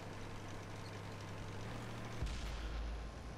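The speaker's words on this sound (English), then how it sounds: "one of the friendlies takes a couple of shots at us" A tank cannon fires in the World of Tanks game from a Japanese heavy tank battle, one heavy boom midway followed by a low, rumbling tail over steady engine-like background noise.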